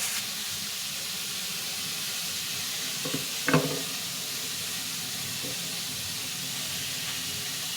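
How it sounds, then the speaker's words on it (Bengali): Ridge gourd frying in a pan for a potato and poppy-seed curry gives a steady, faint sizzling hiss, with a brief clatter of stirring partway through. "ঝিঙেটা একটু লাল করে ভেজে নিতে হবে"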